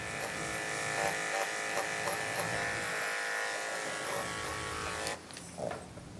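Electric dog grooming clippers, an Oster or Andis type, buzzing steadily and close for about five seconds before cutting off, leaving quiet room sound.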